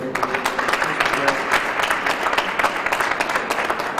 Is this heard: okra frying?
no